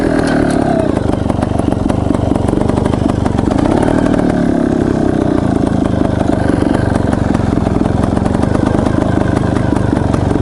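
A trials motorcycle in second gear runs loud and close while riding onto a concrete K-rail, its engine droning steadily throughout with no talking.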